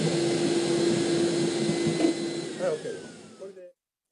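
A vacuum cleaner sucks water out of an old washi paper document, a steady loud whine with a droning hum that runs for about three and a half seconds, then cuts off abruptly.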